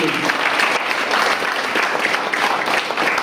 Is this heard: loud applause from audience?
yes